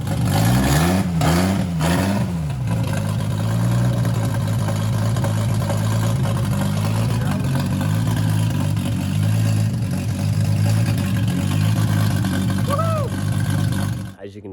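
A car engine runs steadily after being repaired, with a few revs rising and falling early on and a brief rev near the end, loud and close throughout.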